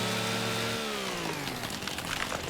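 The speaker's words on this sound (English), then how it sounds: "This is a nice chainsaw." A chainsaw bites into an elm tree in Farming Simulator 25, its engine whining steadily and dropping in pitch as the blade bogs through the wood, loud and close with no talk over it.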